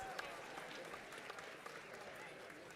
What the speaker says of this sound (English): Can we give another round of applause to Mustafa and Jeff